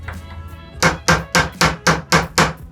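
A hammer forges knife steel with its flat face, spreading the metal in six loud, evenly spaced metallic strikes after a quieter opening, each blow ringing briefly.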